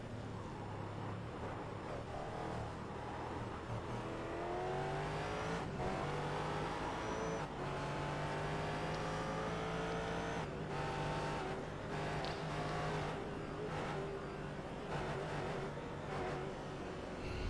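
Race cars in a video game race at Suzuka, including a Cadillac fast on the straights, roar continuously with rising engine pitch through gear changes, loud and steady with a faint commentary voice underneath.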